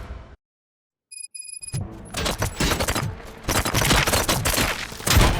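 Bursts of rapid gunfire erupt in the Robocop: Rogue City video game, a dense loud fusillade of overlapping shots and impacts following a brief silence with a few electronic tones.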